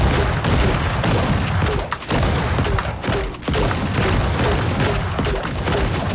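Repeated MGL grenade launcher shots and explosions in the game Creative Destruction, a dense, loud run of booming blasts and thumps that barely lets up, with two brief dips in the barrage.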